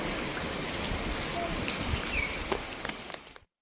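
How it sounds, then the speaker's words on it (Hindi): Steady rain falls on and around a rooftop during a heavy downpour, a continuous hiss of drops with a few louder patters, fairly close and unbroken until it cuts off abruptly. "पानी देखिए छत तक भर चुका है और बारिश तो हो ही रही है"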